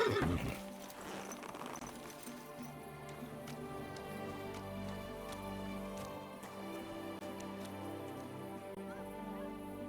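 A horse in Kingdom Come Deliverance 2 gives a sharp whinny at the start, followed by steady clip-clopping hooves and faint rain-like patter, fairly quiet and without talk.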